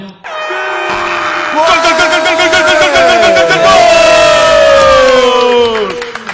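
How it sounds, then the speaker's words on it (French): Football supporters of the Téméraires from Dijon cheer and whoop loudly with an air horn blaring steadily over the crowd, a continuous near roar lasting several seconds during a radio quiz. "Sandy, vous êtes applaudi par les téméraires"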